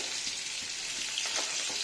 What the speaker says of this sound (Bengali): ইলিশ মাছগুলো অল্প কিছুক্ষণ ভেজে আমি